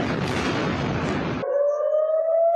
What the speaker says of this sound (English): Air raid sirens sounding across Israel